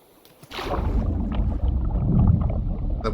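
Water in the survival game Ocean Block rushes and gurgles as a steady, fairly loud wash. It starts suddenly after a brief quiet moment and continues with no talking.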